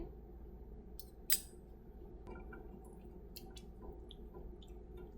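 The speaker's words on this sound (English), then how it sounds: "we'll just dump off the excess stain and then rinse off our slides again" Excess stain poured off microscope slides and the slides rinsed with water, a few soft splashes and drips with one sharper splatter, quiet and close with no talk.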